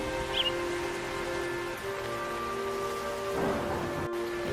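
Steady rain falls in a cartoon scene, a soft continuous hiss over a low background tone, with a faint rustle near the end.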